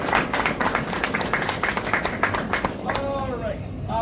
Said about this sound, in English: a round of applause to our youth program